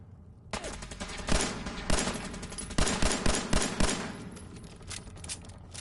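Rapid video-game gunfire, with loud, dense bursts of automatic shots one after another and overlapping volleys for several seconds before thinning out toward the end.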